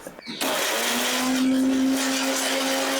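A kitchen mixie grinds coconut, red and green chillies and salt for kara adai batter. It starts up abruptly and keeps running as a loud, steady motor whine with a sustained tonal hum.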